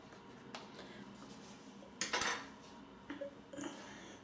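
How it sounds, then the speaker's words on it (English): Triple milled soap is pressed into a shave bowl, with soft rubbing and scraping and a burst of ceramic contact in the middle, then a few light clinks and knocks, all quiet and close. "I'm going to put it in the top of my shave bowl today. Let's press it down."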